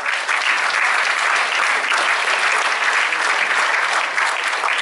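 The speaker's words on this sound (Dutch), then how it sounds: "geef even een daverend applaus" A dense, loud round of applause greets an alderwoman arriving at a prize-giving ceremony, the clapping steady and unbroken from start to finish with no voices standing out.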